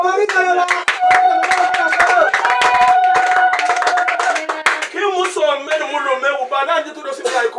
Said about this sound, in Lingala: Est-ce que vous pouvez acclamer?